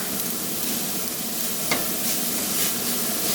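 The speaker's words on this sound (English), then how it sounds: "I'm gonna put the garlic, ginger, and the Jalapeno in there" Garlic, ginger and jalapeno sizzle in hot oil in a pan, a loud, dense, continuous frying hiss with a faint scrape of stirring, no voices.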